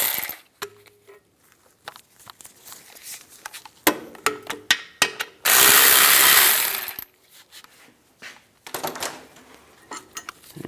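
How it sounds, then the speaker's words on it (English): Metal tools clink and a ratchet clicks in short bursts as an 18mm socket loosens the caliper bracket bolts on a 2007-2014 Cadillac Escalade. One sustained harsh burst stands out in the middle, and there is no talk. "take these two caliper bracket bolts out, use an 18mm socket. Loosen those up, take those out."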